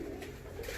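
Ornamental pigeons cooing in their coop, a steady low murmur of overlapping coos close by with no talking.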